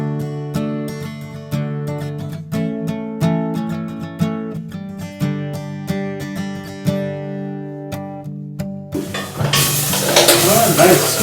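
Onions fry in a pan while being stirred. Background music plays over a faint sizzle, then a loud, close hiss of frying swells near the end.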